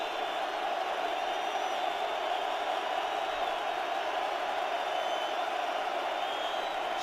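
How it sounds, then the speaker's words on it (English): A football stadium crowd roars steadily during an NFL game between the San Francisco 49ers and Seattle Seahawks in Seattle, a distant, even wash of massed voices holding throughout. "Crowd noise gets louder."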